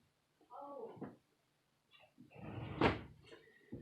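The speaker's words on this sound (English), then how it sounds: "The door was open, so I just shut it." A door is pushed shut indoors, its close landing as one sharp knock near the end after muffled voices and movement.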